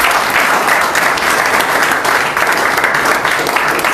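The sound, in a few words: congregation applauding in church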